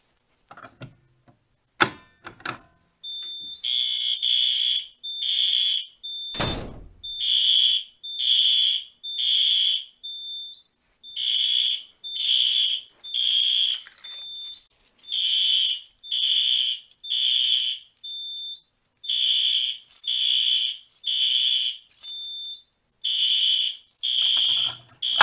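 Simplex SpectrAlert fire alarm horns blare in a steady repeating temporal pattern of loud harsh blasts, set off after a Notifier pull station is pulled during a Simplex 4010 panel test, with a clunk of the pull station just before.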